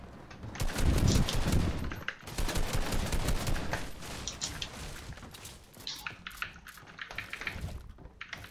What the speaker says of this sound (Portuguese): Outro tiro de pump 30.